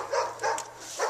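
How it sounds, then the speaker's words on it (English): Dogs barking outdoors among trees during an airsoft team deathmatch, with three faint, fairly distant barks spaced evenly and no talk over them. "Those dogs."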